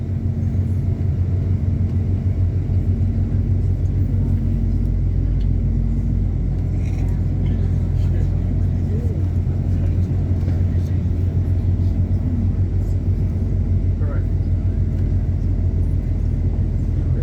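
A car driving through Noumea, New Caledonia, past Port Moselle bay, heard as a constant loud low road and engine rumble from inside the cabin, with faint voices under the noise.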